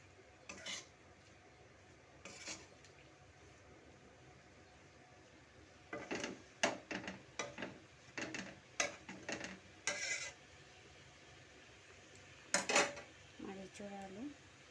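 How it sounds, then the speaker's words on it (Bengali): Jackfruit and potato sauté in a pan, heard as intermittent spoon scrapes and metallic clinks against cookware, quiet and close, with a faint background sizzle and brief voice sounds near the end. "আর ইঁচড় আলু হচ্ছে কষানো হচ্ছে।"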